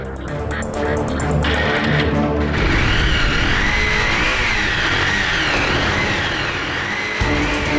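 A motorcycle left standing in a garage for many days fires up and runs, its engine note loud and steady with a wavering whine, nearly continuous through the clip.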